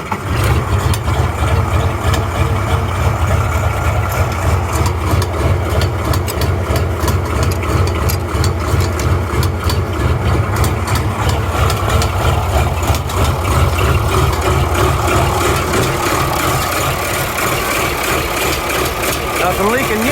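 An Oliver 1755 tractor with a fuel leak idles steadily throughout, its engine giving a loud, even rumble with a regular low throb, close by.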